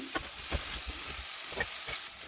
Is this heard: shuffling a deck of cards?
no